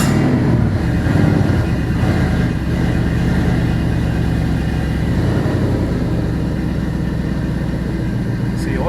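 An all-aluminum 5.3L L33 Gen 3 LS engine that has just cranked and started, now running at a loud, steady idle with a rough, rumbling drone throughout.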